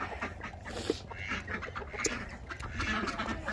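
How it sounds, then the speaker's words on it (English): Ducks quack in a busy farmyard with goats and other fowl nearby, several calls rising over a steady hum of movement and background noise. "and the ducks are ready to get out."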